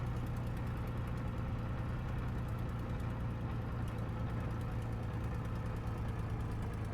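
Spitfire Mk I piston engine idling at low throttle in the IL-2 Sturmovik: Cliffs of Dover flight simulator, a steady, close, unbroken low rumble with no speech.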